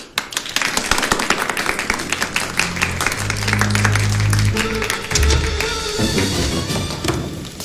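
Classroom of schoolgirls applauding, a dense patter of clapping that swells and holds for several seconds, with some thumps and a few voices mixed in.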